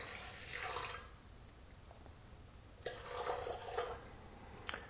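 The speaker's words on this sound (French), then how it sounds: "je verse une partie d'eau dans mon pétrin" Water poured into a dough kneading machine while making thick Roman teglia pizza dough, giving two soft splashing bursts separated by a quieter gap, close and moderately loud with no talk.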